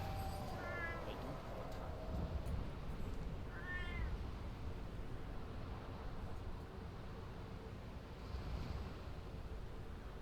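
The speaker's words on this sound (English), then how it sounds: "Are you meowing? Why are you meowing?" A cat meows twice, short rising-and-falling cries a few seconds apart, over a steady windy, surf-like background rumble.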